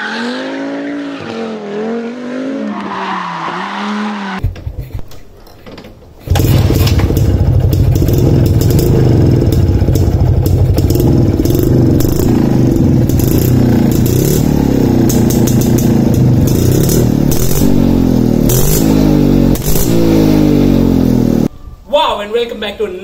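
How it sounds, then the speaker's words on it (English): A Jawa 353 motorcycle engine running and revving loudly, rising and falling in pitch for a long stretch, after a short opening of speech and a brief gap. "You heard that sweet, sweet sound that this motorcycle does. So yes guys, this is a Jawa 353 model"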